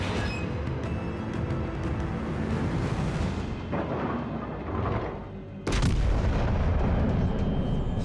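Heavy battleship main-gun salvos from the Jean Bart boom and rumble in a World of Warships naval battle. A sustained roar fades, then a sharp loud new blast follows near the end.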